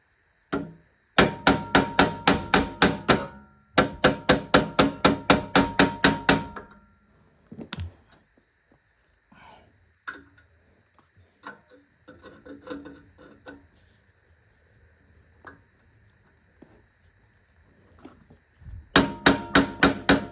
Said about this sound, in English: So the hammering is working